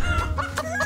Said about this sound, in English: There is also a chicken coop here.